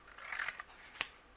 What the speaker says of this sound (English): Let me trim down a little piece of orange here.